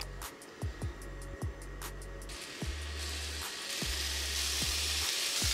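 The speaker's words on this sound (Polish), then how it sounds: "Bierzemy największą dostępną patelnię i zaczniemy od boczku." Bacon frying in a large pan for a giant burger, a steady broadband sizzle that grows louder and denser over a few seconds, with repeated low rhythmic thumps beneath it.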